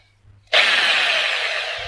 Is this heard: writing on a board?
no